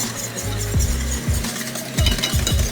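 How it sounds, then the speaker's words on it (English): A whisk stirs butter into a pan sauce, with several quick scraping strokes and light metallic clinks against the pan, close and fairly loud, with no talking. "1 more tablespoon of butter, and we'll just whisk this all together."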